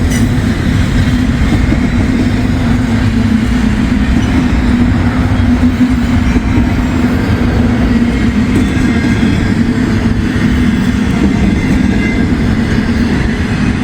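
A freight train hauling JB Hunt containers rolls past at close range, slowing for a curve, with a loud, continuous rumble and wheel noise that holds steady throughout.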